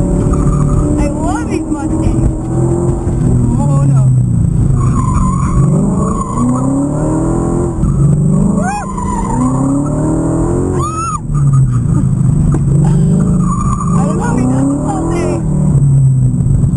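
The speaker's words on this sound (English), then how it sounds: "about to take a crazy hot lap" A Ford car makes a hot lap at the SEMA show, its engine loud and continuous, rising and falling with acceleration, while tires squeal in repeated bursts and voices talk over the noise.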